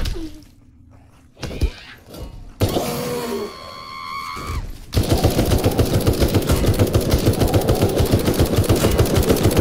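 A rifle fires in the zombie survival game Night of the Dead: after a few scattered clunks and mechanical sounds, it breaks into loud, rapid, sustained automatic fire with evenly spaced shots for the last several seconds.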